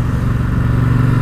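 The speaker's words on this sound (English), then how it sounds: "The other thing you can't help but notice pretty soon on is just the tremendous noise this engine makes" A Triumph Bobber 1200cc high-torque motorcycle engine gives off a deep, steady, close rumble of low thudding pulses for a brief moment, with no talk.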